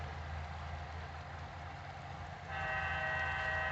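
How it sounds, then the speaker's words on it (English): Horn from a BlueRail model train sound board, heard at the edge of its 75-foot wireless range: a steady, loud tone holds throughout over a low rumble, then swells into a brighter, fuller chord near the end. "Oh, I just lost the horn."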